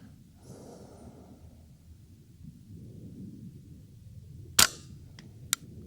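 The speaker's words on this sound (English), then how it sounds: "The rifle that we're shooting today is the Bergara BXR." A Bergara BXR Carbon rimfire rifle fires one sharp, loud crack outdoors over low wind and breathing noise, followed about a second later by a fainter second snap.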